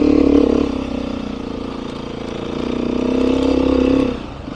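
A Beta dirt bike engine (390 or 500) close by, revving up and easing off in two swells, a buzzy mid-pitched drone that drops at the end.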